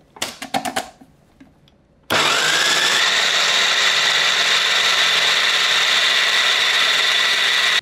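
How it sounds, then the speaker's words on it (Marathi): A food processor grinds chickpea batter for falafel-style bhaji. A few knocks and clatters come first, then the motor starts abruptly and runs as a loud, steady, high whirring grind close by until the end. "आता हे छान फिरवून झालं फूड प्रोसेसरला की हे काढायचं"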